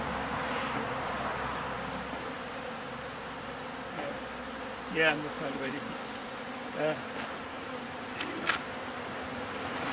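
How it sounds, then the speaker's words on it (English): Honey bees buzz continuously in a steady drone around a hollow tree, with a few louder buzzes passing close; someone speaks briefly partway through. "You can see now a few more bees want to get in."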